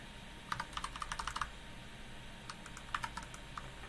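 Bracket keys tapped on a computer keyboard while working in Photoshop, two short bursts of quick light clicks, close and soft in a quiet room with no speech.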